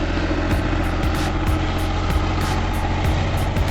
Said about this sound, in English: Engines roar to the heavens,